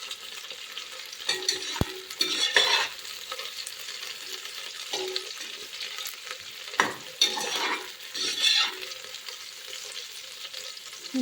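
Six medium-hot green chillies sizzle quietly in a pan for vegetable pulao, with repeated close scrapes and clicks of a spoon stirring them through the oil.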